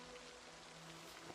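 Steady rain hisses evenly and softly in the video game Project Zomboid, a continuous wash of drops with no talking.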